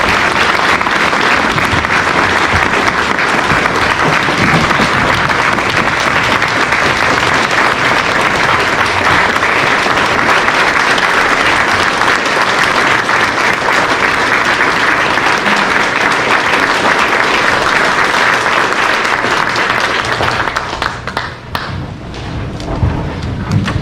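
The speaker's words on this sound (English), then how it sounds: "we should have one more round of applause for our veterans." Sustained, loud audience applause in honour of local veterans at a ceremony, dense steady clapping that fills the whole stretch and thins slightly near the end.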